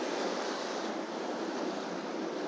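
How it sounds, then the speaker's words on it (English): Waves and wind wash steadily around a Nitro bass boat out on the water, a constant broadband rush with no talk. "Man, there's some waves out here today."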